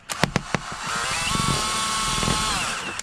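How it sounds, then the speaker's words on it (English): A few sharp knocks, then a close power drill with a spade bit whirs steadily in reverse for a couple of seconds as it bores through vinyl siding, ending abruptly. "So with vinyl siding and a spade bit, I like to go in reverse"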